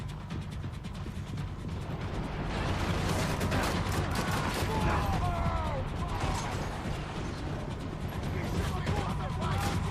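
Dense game gunfire and ricochet-like clatter from a Max Payne 3 shootout fill the whole stretch loudly and continuously, with someone talking over the action.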